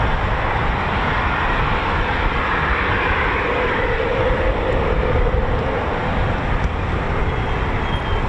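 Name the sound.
Supermarine Spitfire aircraft going out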